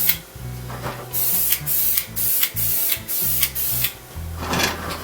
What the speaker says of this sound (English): This is only the second time I'm using this hand airbrush.